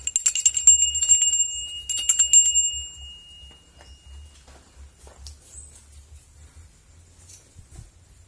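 A small bell rings sharply in two quick bursts near the start, then fades, leaving faint scattered ticks and a low rumble.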